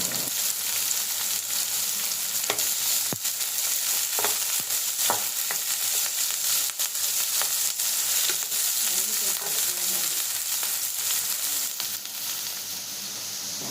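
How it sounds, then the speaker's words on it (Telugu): Finely chopped green chilies sizzle steadily in hot oil, a dense, even hiss with occasional soft taps and stirs, close and continuous throughout. "పచ్చిమిర్చి సన్నగా తరుక్కున్నాం కదా ఆ పచ్చిమిర్చి వేస్తాం"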